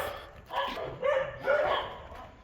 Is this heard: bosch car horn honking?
no